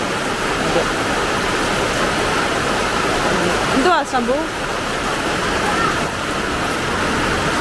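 Steady heavy rain pours down at a home in Kerala, a dense continuous hiss filling the whole span, with people briefly talking over it.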